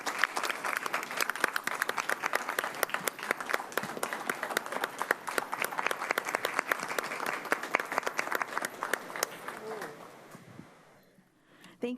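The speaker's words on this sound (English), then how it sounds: "A huge round of applause to these students before we take their picture" A room at a school board meeting breaks into sustained applause for students, with dense, even clapping from many hands that fades out near the end.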